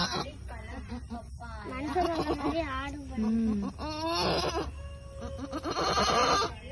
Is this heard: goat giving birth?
yes